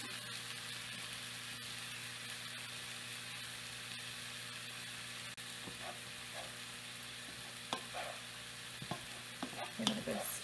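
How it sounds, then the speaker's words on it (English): Cooked rice stirred with soya sauce in a pan, a steady soft sizzling hiss throughout with scattered scraping and clinking of the spoon against the pan growing more frequent toward the end. "Give it a good stir."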